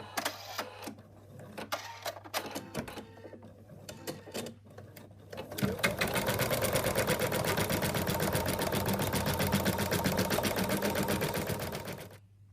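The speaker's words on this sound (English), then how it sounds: "now it's going to do the outline for the applique" An embroidery sewing machine stitching an applique outline, starting after a few quiet handling clicks and then running as a fast, steady mechanical rattle of needle strokes for about six seconds before stopping.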